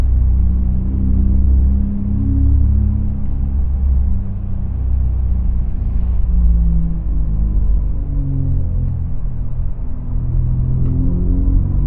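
Electric Porsche Macan GTS driving a curvy country road, a steady low rumble of tyre and road noise heard from inside the cabin, even and continuous with gentle swells and no engine note.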